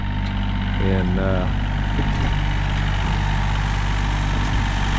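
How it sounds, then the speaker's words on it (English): A 1995 John Deere 770 compact tractor engine idles with a steady low rumble, close and constant, while someone speaks briefly over it. "But this right here has been a good tractor. It's a 1995 model,"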